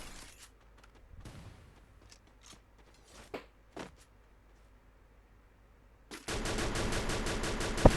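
Gunfire in a battle royale ranked match: scattered single shots and short bursts, then a loud, dense stretch of sustained automatic fire near the end.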